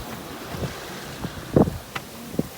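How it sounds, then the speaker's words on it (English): Sailboat under way in wind off the west coast of Vancouver Island: soft rush of wind and water with scattered splashes and creaks, a couple of sharper knocks standing out, no talk. "we're sailing off the west coast of Vancouver Island"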